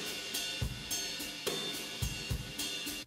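Drum room mic track widened with fake stereo and a touch of EQ, from a mix of a song about cats: a washy, diffuse kit with kick hits and cymbal bursts recurring steadily, playing alone without voices.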